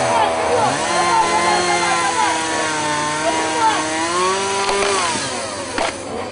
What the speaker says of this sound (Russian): каждый из мужчин вооружился бензопилой